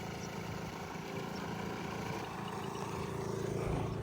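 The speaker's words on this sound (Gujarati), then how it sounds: "હા મિતભાઈ બાઇક લઈને, આ બાઇક લઈને આવ્યા." A motorcycle engine idles nearby with a steady low rumble, holding an even pace throughout.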